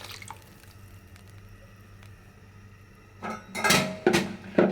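Broth poured into a pan of simmering hilsa fish curry, a few wet splashes and squishy liquid sounds with clinking of a utensil against the pot, arriving in short bursts after a quiet start.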